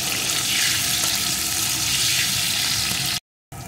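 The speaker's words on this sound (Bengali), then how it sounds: "আলুটা লাল লাল করে ভেজে নেব" Cut potato pieces with salt sizzle steadily in hot oil in a pan, a dense, loud, continuous frying hiss heard up close with no speech, cutting off abruptly near the end.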